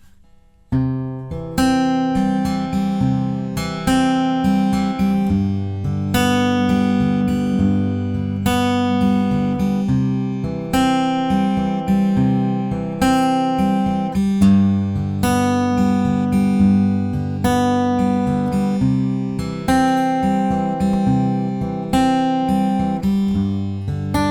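An acoustic guitar is fingerpicked alone in a steady, repeating chord pattern from a song at a relaxed, even pace.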